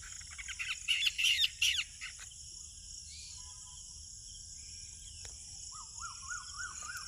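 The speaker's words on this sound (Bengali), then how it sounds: "আর ওইদিকে পাখিদের কিচিরমিচির আপনারা শুনতে পাচ্ছেন" Birds calling at dusk, with a cluster of loud nearby chirps early on, then quieter scattered calls and a short rhythmic trill later over a steady insect drone.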